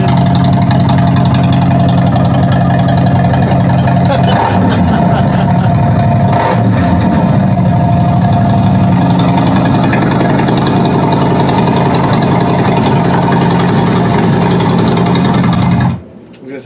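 A Yamaha V-Star motorcycle engine runs at a loud, steady, throbbing idle with a couple of brief blips in revs around the middle, then cuts off near the end.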